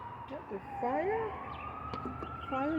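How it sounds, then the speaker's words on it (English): A wailing ambulance siren sweeps up and down at moderate distance, rising and falling over a steady background hum. "fire truck or ambulance? I think it's an ambulance."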